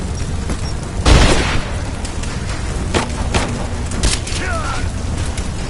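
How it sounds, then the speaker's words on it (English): A grenade blast in the video game Rise of the Tomb Raider lands as one loud, booming burst near the start. Scattered thuds and game noise follow under ongoing combat ambience. "Throwing a grenade!"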